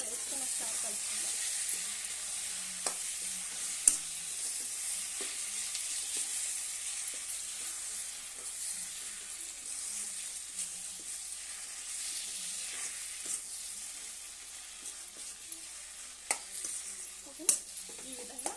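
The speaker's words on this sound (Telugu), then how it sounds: "బంగాళదుంప మొత్తం వేసుకొని ఒకసారి కలుపుకుందాం." Potatoes frying and being stirred in a pan for an aloo tomato curry, a steady soft sizzle with scattered light scrapes and clicks of the spoon, fairly quiet and without talk.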